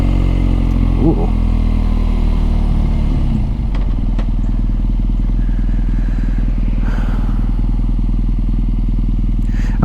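BMW R NineT motorcycle engine heard while riding. It makes a loud, close, steady throbbing drone that rises briefly early on, then settles into an even, pulsing beat.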